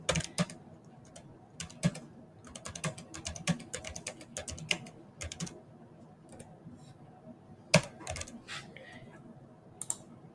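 Keys clatter on a computer keyboard as data is entered into a new grid in Plotly, in quick, irregular bursts of close clicks with short pauses between runs.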